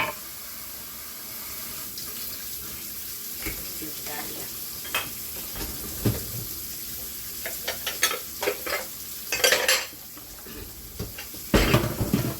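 Onions sizzle and fry in a hot pan for a Southern liver dish, with a steady crackle throughout and louder bursts of spatter and stirring near the end. No one speaks.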